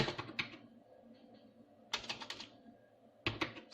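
Short bursts of rapid keystrokes on a computer keyboard as an SQL query is typed, three quick clusters of close, quiet clicks separated by brief silent gaps.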